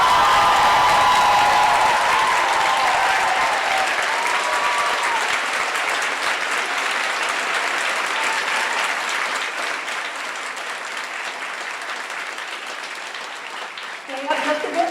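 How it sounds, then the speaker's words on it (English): A commencement audience applauds the staff with loud, dense, sustained clapping that fills the space for the whole stretch, slowly thinning toward the end. "So please now thank our staff when you see them today and honor them with your applause."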